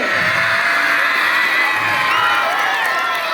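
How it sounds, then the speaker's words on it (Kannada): A crowd of children clapping, cheering and shouting together at a school game, loud and continuous, a dense wall of excited voices throughout. "ಚಪ್ಪಾಳೆ"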